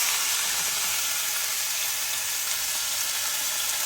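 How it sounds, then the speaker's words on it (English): Seasoned bone-in chuck roast sears in hot oil for birria, a loud, dense, steady hissing sizzle that fills the whole short stretch without letting up, close and alone. "A little bit of oil, and we're gonna sear them on both sides."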